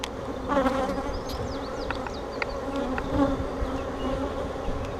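Honey bees hum continuously from an open hive during an inspection, a close, dense buzzing drone with individual bees zipping past, and no voices.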